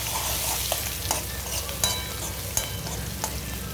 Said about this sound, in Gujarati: મૂકી દીધું છે આપણે તેલ અને એમાં નાખી દઈશું જીરું, રાઈ, મીઠું,